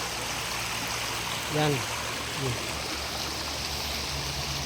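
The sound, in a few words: spring water flowing in a stream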